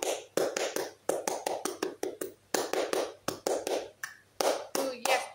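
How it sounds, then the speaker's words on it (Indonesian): Scout clapping rhythm (tepuk pramuka) performed by hand, with sharp claps in grouped patterns with short pauses between groups, close and clear, with no talking over it. "Contohnya, tepuk pramuka."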